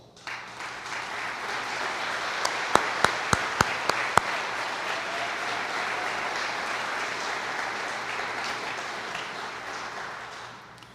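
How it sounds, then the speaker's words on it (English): An audience at a senior legacy awards ceremony in Riverside County applauds previous honorees, a steady wash of clapping lasting about ten seconds, with a few sharp, close claps standing out early on. "give you a round of applause"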